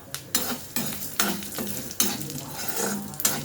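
Chana dal and urad dal roasting in a pan, a close rhythmic scrape of a spoon tossing the dry lentils with a light sizzle, several strokes in quick succession.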